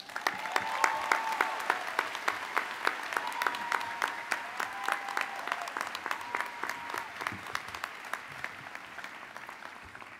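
A commencement audience applauds continuously, dense clapping from a large crowd that stays loud and steady before easing slightly toward the end.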